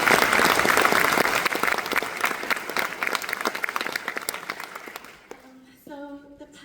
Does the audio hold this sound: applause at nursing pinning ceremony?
yes